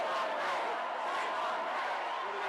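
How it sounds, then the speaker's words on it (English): A large protest crowd in London chants "shame on May", a dense, steady roar of many voices that fills the whole moment without pause. "If you listen to the crowd right now saying, I'll let you listen, shame on May"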